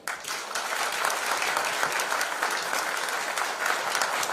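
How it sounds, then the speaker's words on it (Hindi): A training-session audience of farmers applauds loudly and steadily, dense sustained clapping from a crowd filling the room. "तो एक बार आप खुद के लिए एक बार जोरदार ताली बजाइए।"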